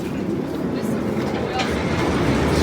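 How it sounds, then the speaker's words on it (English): A Six Flags Great America park train rumbles overhead as people walk beneath its crossing, a steady, loud rolling roar that swells slightly toward the end. "So we are walking under the train right now."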